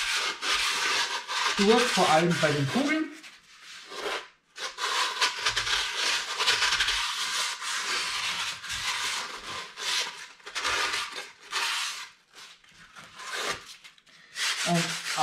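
Repeated scratchy rubbing strokes of a sponge sanding a clay ball resting on wood, steady and close, with a voice speaking briefly in German between strokes.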